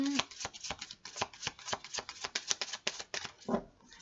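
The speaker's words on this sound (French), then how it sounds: "Alors, on va faire le tirage de l'oracle des fées." Oracle cards being shuffled by hand for a fairy oracle reading, a quick run of soft crisp riffling taps repeated steadily and close up, fairly quiet, with no talking.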